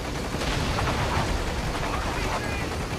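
Gunfire in Metal Gear Rising: Revengeance, a dense, noisy burst of rapid shots and impacts filling the whole stretch at a constant loud level.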